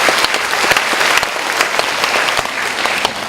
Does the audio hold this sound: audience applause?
yes